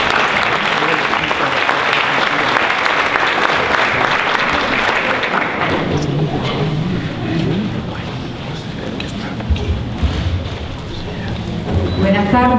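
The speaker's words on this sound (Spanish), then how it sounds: "Un aplauso." An audience at a conference breaks into loud, sustained clapping for several seconds, which then thins out into scattered claps and murmuring as the room settles.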